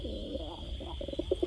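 Pigeons at a seller's stock of Spanish pouter and Irani birds coo in low, throaty bursts, with several close, rhythmic calls clustering toward the end over a faint steady background hum.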